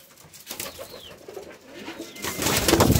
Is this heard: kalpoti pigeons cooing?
yes